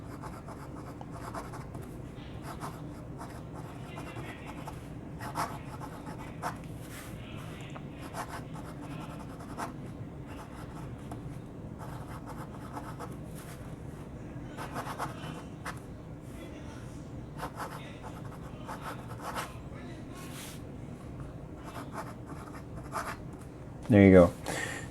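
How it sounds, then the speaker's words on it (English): Soft scratchy strokes of a Noodler's Neponset fountain pen with a music nib writing on paper, faint intermittent scratches under quiet background hum, ending with a brief louder knock. "So just a normal writing sample."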